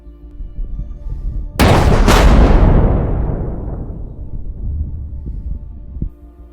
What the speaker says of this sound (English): The mortar shell landed with pinpoint accuracy, resulting in a powerful explosion.